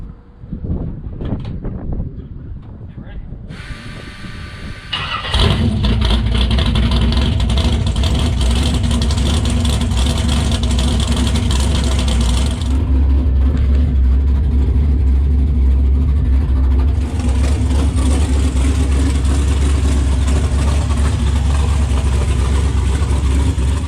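Rebuilt LS 6.0 engine starting after a few seconds of cranking and scuffling, then running loud and close with a deep steady roar that holds without letup to the end.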